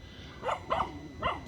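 Dogs and puppies in the Philippines bark at a moderate distance, three separate barks spaced about a third of a second apart, with no talking.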